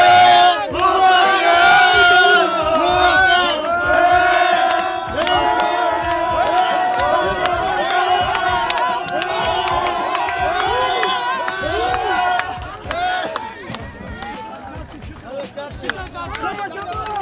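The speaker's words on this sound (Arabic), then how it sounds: "هاي فرحة الجمهور" A large football crowd at a Mosul Club match roars and chants in celebration, loud rhythmic shouting from many voices that carries for over ten seconds before thinning out toward the end.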